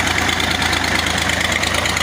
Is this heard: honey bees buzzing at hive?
no